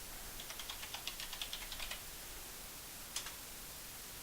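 Quiet typing on a computer keyboard: a quick run of light clicking keystrokes for about two seconds, then a pause and one final isolated key press.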